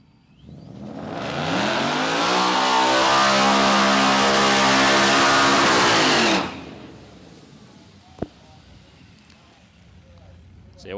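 A supercharged Mustang drag car does an aggressive burnout at a dragstrip test-and-tune session, its engine screaming loud and sustained for several seconds before cutting off, leaving quieter ambient noise and a sharp click.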